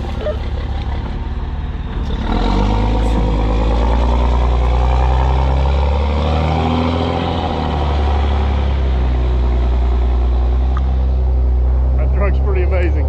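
A truck's engine idles with a heavy low rumble that rises after a quieter start and holds for the rest, while voices talk over it.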